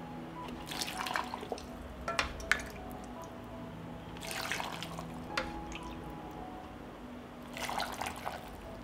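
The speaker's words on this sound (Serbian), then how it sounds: "Vreo preliv sipaću u tegle." Hot brine marinade is poured into glass jars, giving three separate bursts of splashing, trickling liquid over a steady low hum, with faint drips between the pours.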